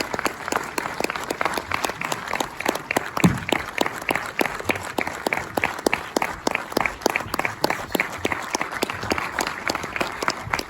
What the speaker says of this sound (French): Vous pouvez continuer à applaudir Louise Amalric